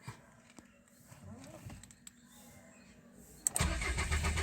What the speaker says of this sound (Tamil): வண்டி கிராங்க் ஆகுது, ஸ்டார்ட் ஆக மாட்டேங்குது